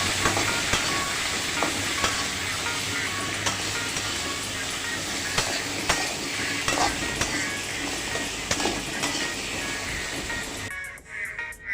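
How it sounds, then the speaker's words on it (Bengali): Pumpkin pieces sizzle loudly in hot oil while being turned and stirred, a dense continuous frying hiss with scattered scraping clicks throughout, ending sharply near the close. "সো কুমড়াগুলো এইভাবে উল্টে পাল্টিয়ে ভেজে নিতে হবে।"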